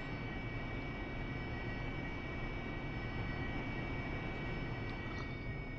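A steady droning aircraft engine in DCS World, an airplane circling above an airfield, heard as a constant broadband hum with a faint tonal whine, no voices.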